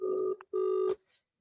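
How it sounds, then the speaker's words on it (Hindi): Ringback tone of an unanswered phone call, two steady electronic tone bursts with a short gap between, clear and close, then fading to silence. "घंटी जा रही है"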